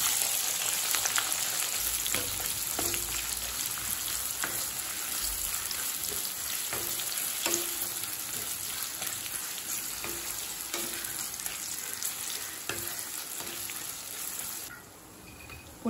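Two long-sliced onions frying in hot oil with cumin, urad dal and asafoetida for potato peas masala, a steady close sizzle with occasional stirring clinks throughout.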